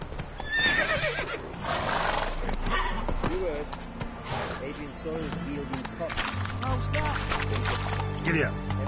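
Horse neighing and whinnying in The Witcher 3 video game, with hoof clip-clop and game sounds around it, and a voice speaking over part of it.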